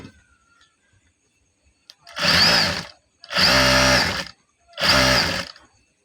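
A sewing machine stitches a salwar hem over gathered elastic in three loud, steady whirring runs of about a second each, separated by quiet pauses.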